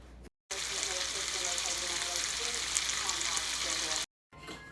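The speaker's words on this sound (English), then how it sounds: "I'm gonna fry me some bacon" Bacon frying in a pan gives a steady, close, bright sizzle with fine crackling, holding for several seconds between brief cuts to silence.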